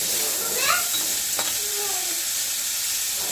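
Cluster beans (gavar) stir-frying in oil for a dry sabzi, a soft continuous sizzle and hiss with a few faint scraping tones close by, without talk.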